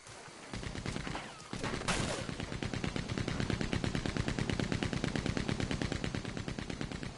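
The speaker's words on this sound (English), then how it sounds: "I know you're not shooting at me," Rapid automatic gunfire in a video game, a loud, sustained burst of densely packed shots running almost continuously with no talk over it.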